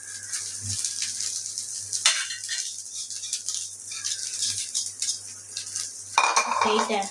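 Rice being stirred into a coconut rice mixture in a pan, with a spoon scraping and rattling steadily against the pan throughout and a brief louder scrape near the end.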